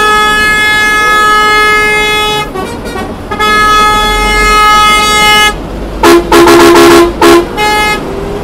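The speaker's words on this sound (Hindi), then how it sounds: "जाम में आपको सिर्फ हॉर्न्स की आवाज़ सुनने में मिलेगी हर तरफ।" Vehicle horns blare in a heavy traffic jam, heard from inside the cabin of a GSRTC sleeper coach bus. Long sustained honks overlap, then several loud, close blasts come in quick succession near the end.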